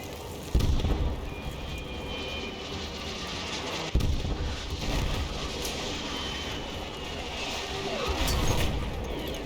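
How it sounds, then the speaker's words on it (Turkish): Rumbling explosions and bombing in Battlefield 1, with a sustained low roar and several heavy blasts across the battlefield soundscape. "Çok güzel bombalıyorsun."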